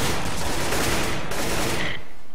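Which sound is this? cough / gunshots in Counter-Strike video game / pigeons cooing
gunshots in Counter-Strike video game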